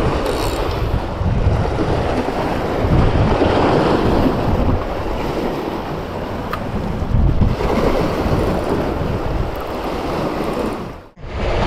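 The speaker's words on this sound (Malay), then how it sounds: "Angin tolak belah ni ya." Strong wind buffets the microphone on a boat out at sea during a fishing trip, a loud continuous roar mixed with wave wash, dipping briefly near the end.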